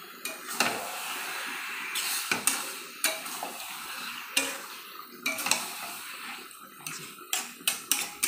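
Meat is stirred and sautéed with spices in a pan, repeated sharp scrapes and clinks of a spatula against the metal over a soft underlying sizzle, close and rhythmic.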